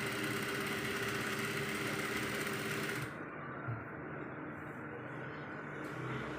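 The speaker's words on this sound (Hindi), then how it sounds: "ये हम चौक की सिलाई लगा रहे हैं।" A sewing machine runs steadily while stitching a shirt placket, giving a continuous quiet whirring hum with a faint mechanical buzz throughout.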